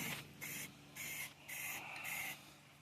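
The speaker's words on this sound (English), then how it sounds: "I'm gonna spray paint that again." Spray can paint hissing onto a 1950 Chevy truck frame during a 4x4 frame swap with a 2004 GMC, in four close, steady bursts of roughly half a second each with brief pauses between them.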